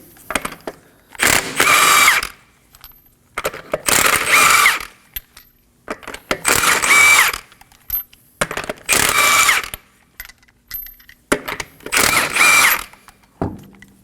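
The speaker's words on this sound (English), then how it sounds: "Using a 21mm socket, we're going to remove the wheel." A socket tool spins a wheel's lug nuts off a 2016-2020 Kia Sorento with a 21mm socket. Five loud, even bursts of mechanical whirring each last about a second, with quiet gaps and light clinks between them and no talking.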